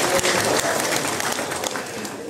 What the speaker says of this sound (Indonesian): Tepuk tangan dong, buat semangat.